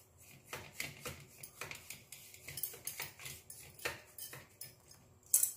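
A utensil clicks and scrapes rhythmically against a bowl as cabbage is mixed with spices. The strokes are quiet, close and repeated, ending with a sharper clink.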